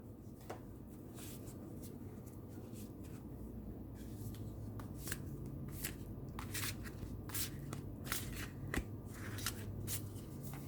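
Wandering Star Tarot cards are shuffled by hand, giving repeated crisp riffling and flicking bursts in an irregular rhythm, close and alone in a quiet room.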